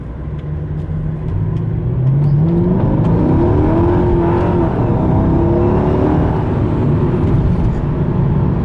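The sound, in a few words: Mercedes E55 AMG car accelerating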